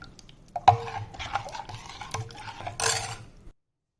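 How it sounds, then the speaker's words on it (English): A spoon stirs a dahi kadi mixture with salt in a metal vessel, giving a few sharp clinks and soft swishing scrapes for about three seconds before it stops. "Mix it thoroughly."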